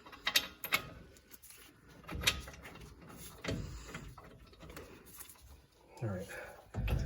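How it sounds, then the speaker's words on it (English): Metallic ratcheting and clicking as mounting bracket bolts are tightened onto the steering knuckle of a 2006 Dodge Ram 1500 4x4 during front wheel bearing work, in several close bursts with short pauses between them. "just getting the mounting bracket bolts tightened up here"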